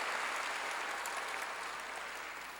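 Congregation at a church service applauding, a brief steady burst of clapping heard at low level from a distance.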